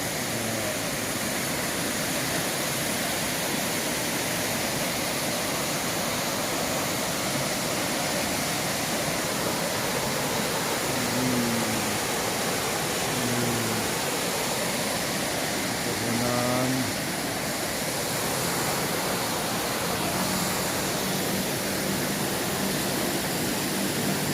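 A steady, broad roar of falling water at Jagir waterfall in Banyuwangi, Indonesia, fills the whole stretch, constant and enveloping, with a few faint tonal sounds drifting in partway through.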